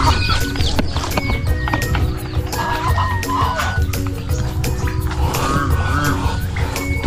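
Chickens clucking around a backyard coop where a hen tends her chicks, mixed with ducks and turkeys kept nearby; steady close farmyard fowl sounds with someone talking over them.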